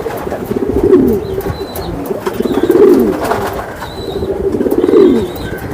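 Racing pigeons at a loft coo in repeated rolling phrases about every two seconds, close and clear, with faint higher chirps between the calls.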